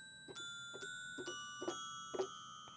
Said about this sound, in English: I'm extra, so I got some bells down here.